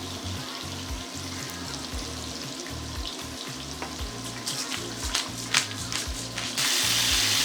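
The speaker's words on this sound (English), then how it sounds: "now I'm going to add my carrots. Let these fry a little." Carrots fry in a pan for egg fried rice, a steady close sizzle with soft scraping and stirring knocks throughout, the hiss growing brighter and louder near the end.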